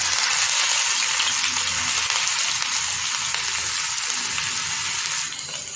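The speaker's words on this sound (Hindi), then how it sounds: "हमारा ऑयल अच्छे से गर्म हो गया है तभी हम इसमें प्याज डाल देंगे।" Onion fries in hot oil for a prawn tawa masala, giving a steady, close, bright sizzle that hisses evenly throughout and softens slightly at the very end.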